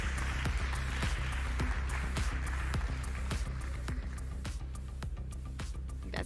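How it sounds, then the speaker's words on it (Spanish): Steady applause fills a conference hall at Congreso Futuro 2023 as physicist Leopoldo Soto is welcomed, a dense, fairly soft patter of many hands continuing throughout without voices. "Un fuerte aplauso para él."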